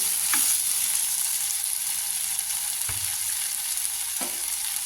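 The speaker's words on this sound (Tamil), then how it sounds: "இப்போ எல்லாமே நல்லா வதங்கி வருது." Vegetables sautéing in a pan for coconut milk pasta, a steady close sizzle running throughout, broken by a few scraping stirs of a spoon.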